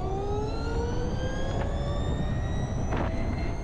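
An Ather 450X electric scooter accelerates hard, its motor giving a loud rising electric whine with several climbing tones over steady wind and road rumble.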